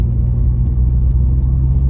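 A VW Jetta MK7 with muffler and resonator deleted idles or cruises with a deep, steady exhaust drone, loud and close with no talk.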